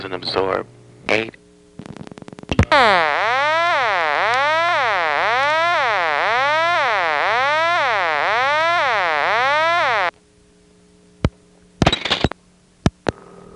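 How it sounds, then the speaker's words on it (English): A step-by-step telephone selector's intercept tone from the 1970s–80s, a loud warbling tone that sweeps repeatedly in steady cycles for several seconds, preceded and followed by mechanical clicks and switching pulses. "The 7 absorbs, and then the 8 goes to that intercept tone."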